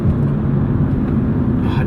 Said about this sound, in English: That engine sound, love it.